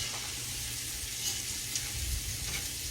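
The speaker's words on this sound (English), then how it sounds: "I've turned this back up to high now because I got time to sit here and stir it" Food sizzling steadily in a pan on high heat while being stirred, with a constant broadband fry hiss and a few louder scraping bumps, close and alone.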